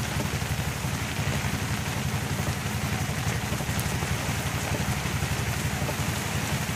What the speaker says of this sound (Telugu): వర్షం చూడండి గట్టిగా పడుతుంది.